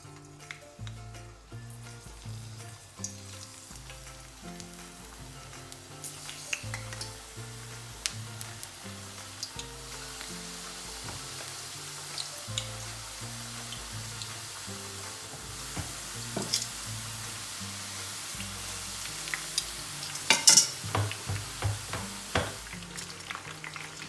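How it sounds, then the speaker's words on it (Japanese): Eggplant slices frying in oil heated to 180 degrees in a frying pan, a steady soft sizzle running throughout with scattered sharper crackles and pops, no voices. "それからフライパンで180度に温めた油でナスを炒めましょう"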